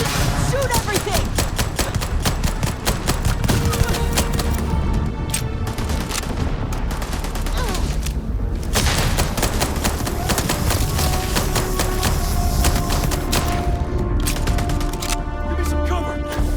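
Sustained gunfire from the sci-fi game Starfield, rapid bursts of shots and booms hammering almost without pause, loud and close, with shouting voices breaking in over the firefight.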